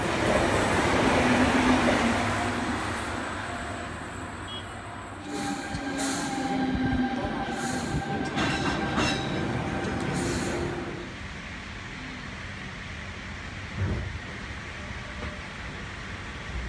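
A Sydney suburban train, an older C set, runs toward Bondi Junction, with steady rolling rumble and rattle inside the carriage, brief squeals and clunks, and a sharp knock near the end.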